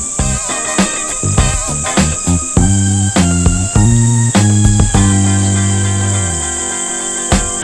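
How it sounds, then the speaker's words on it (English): Crickets held in tubs at a bait shop in Hutchinson, Minnesota, heard as a constant high-pitched chirping drone, joined by tonal, musical-sounding pulses and sharp clicks throughout. "hearing all these crickets chirp all night long"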